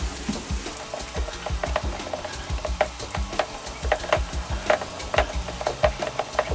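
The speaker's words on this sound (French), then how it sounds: "On va déjà commencer à amalgamer le tout ensemble" Ground beef, mortadella and potatoes being mixed together by hand or spoon for meatballs, giving a string of close, moist squelching and scraping strokes in an irregular rhythm, with no voices.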